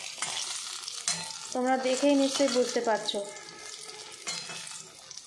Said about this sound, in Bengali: বেগুন ভাজাটা কিন্তু খুব সুন্দর একটা কালার চলে এসেছে